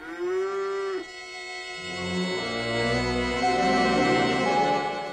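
Cows lowing loudly and close by in a biblical-era scene, one long drawn-out moo breaking off and followed by deeper, overlapping moos that swell toward the end.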